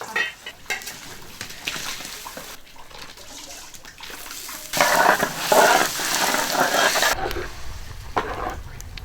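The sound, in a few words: pouring rice into boiling water in pot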